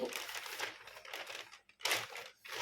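A paper sewing pattern for a wrap-style sarong being folded, giving soft crinkling and rustling in several bursts with short pauses, close and quiet.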